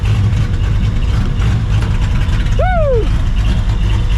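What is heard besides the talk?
Ford Mustang 2-valve V8 engine running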